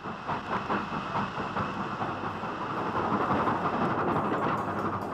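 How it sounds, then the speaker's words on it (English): A steam locomotive hauls a long-distance express on a hard non-stop run, with a continuous heavy rumble and rhythmic wheel clatter on the rails, steady and fairly close throughout. "After 250 miles of hard running, the train reached the northern hills and the long haul up Shap Fell."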